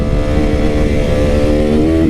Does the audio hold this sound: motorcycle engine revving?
yes